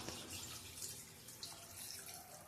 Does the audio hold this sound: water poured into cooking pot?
yes